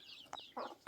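A fairly large chicken clucking close by, a few short soft clucks in quick succession with no other sound.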